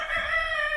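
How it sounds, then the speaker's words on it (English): Chickens are heard outdoors, with a rooster crowing in a strong, sustained cock-a-doodle call close by, a faint cluck underneath and no talking. "chicken number 1, chicken number 2, chicken number 3, and more chickens inside"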